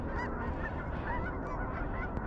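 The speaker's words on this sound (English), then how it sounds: "Looks like it's a geese morning." A big flock of geese along a shoreline in Colorado honks continuously, a dense overlapping chorus of calls at moderate distance with no talking.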